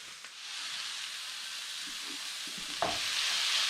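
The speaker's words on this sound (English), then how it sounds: "So now on top of my onions and spices, I'm going to add my minced beef." Minced beef hitting a hot pan of softened onions and spices, a steady close sizzle and hiss with a few stirring scrapes, the frying swelling louder near the end as the meat goes in.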